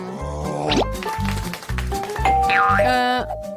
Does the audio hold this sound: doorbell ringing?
yes